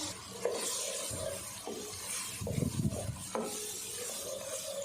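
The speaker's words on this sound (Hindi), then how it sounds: "एक से 2 मिनट हम सब्जियों को फिर से फ्राई कर लेते हैं।" Vegetables—capsicum, peas and carrots—stir-fried in a pan for fried rice, a steady sizzle with scraping stir strokes that swell into a louder burst of rough tossing midway, close and continuous with no talk.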